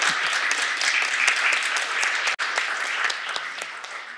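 Applause from attendees at a municipal council meeting in Sherbrooke, with individual claps audible in a steady round that dips briefly midway and softens toward the end.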